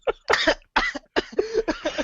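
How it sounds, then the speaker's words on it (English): A rapid run of harsh, close coughing and choking bursts, one after another, from a podcast participant in a recording session, loud and near with no talk over it. "Oh, now you're just gonna cough and choke all over our recording?"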